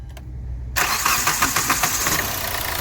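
Hyundai Verna with a refitted ECM, previously knocking from an open injector circuit, cranks on the self-starter and catches after a brief churn, settling into a steady, close idle.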